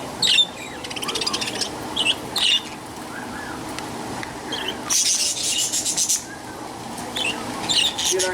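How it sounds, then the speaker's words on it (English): Birds in a pet shop chirp and squawk in short, high, repeated bursts over a busy indoor background, some calls loud and close and others fainter. "Look at all of these birds."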